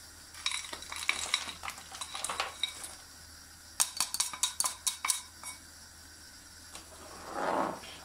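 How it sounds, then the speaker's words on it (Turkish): Belgian sugar is stirred into boiling home-brewed dark beer. A spoon scrapes and clinks against the pot in short bursts, with a quick run of rhythmic strokes midway, and the boil bubbles softly beneath. "Ve güzelce karıştırıp erimesine biraz bir yardımcı olacağız"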